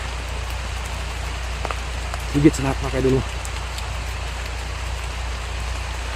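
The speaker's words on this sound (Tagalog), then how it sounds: "Nagpapahinga muna tayo kasi malakas yung ulan." Heavy rain pours steadily on surfaces outdoors, a dense continuous patter throughout, with someone briefly speaking over it partway through.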